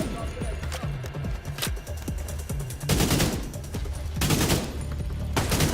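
AK rifle fire in an American Dad video game: rapid volleys of loud, close shots, with a stuttering run early on and two sustained bursts later, while people talk over the shooting.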